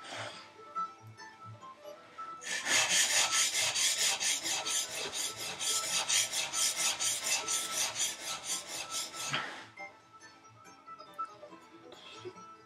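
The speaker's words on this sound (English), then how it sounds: "Go ahead and sharpen kind of like I would on a stone." A plane blade from a tongue-and-groove woodworking restoration is rubbed back and forth on a coarse abrasive, making a loud, close, rhythmic rasping that runs for several seconds, bracketed by quieter handling noises.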